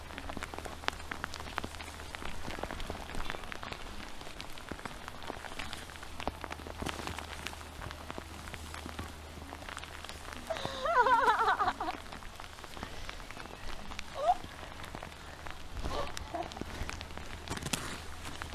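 Rain falls outdoors on a farm as a steady, broad hiss across the whole stretch, with a brief louder splash or voice-like burst near the middle and faint background activity.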